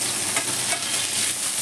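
Thinly sliced onions, two medium ones, hit hot oil with tempering spices for muri ghonto, a loud continuous close sizzle and hiss with faint stirring and no voices.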